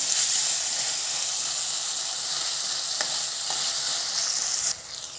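Coriander frying in a pan for a raw papaya curry paste, a steady close sizzle and hiss that carries on evenly before dropping quieter near the end.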